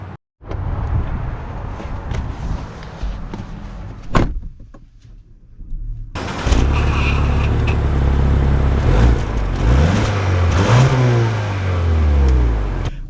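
A 2024 Lincoln Nautilus: a door thuds shut and the cabin goes quiet, then the engine starts and the car pulls away, its loud rising engine note climbing through gear changes, heard from inside.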